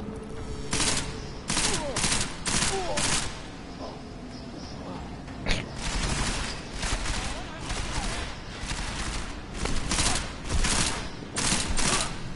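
Machine pistol fire in the video game Deus Ex: Mankind Divided, loud rapid bursts repeating through the clip with short pauses between volleys and game sounds underneath.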